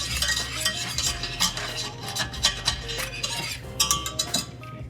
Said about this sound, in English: this is what's known as making a roux